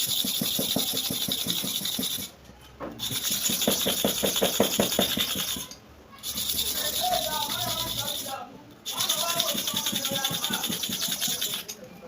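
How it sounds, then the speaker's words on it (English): Clipper blades are sharpened in three long passes, each a rough, rapid rasping grind close by with a brief pause between strokes. "I have to sharpen here and repeat the same thing here too"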